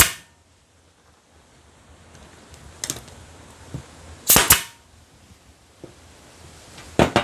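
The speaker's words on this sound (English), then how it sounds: "The other thing to watch if you are using a nail gun is to make sure the nails don't come out the side." A nail gun drives nails into wooden flatpack beehive parts with several sharp, loud pneumatic bangs, spaced irregularly with quiet pauses between shots and one close pair near the end.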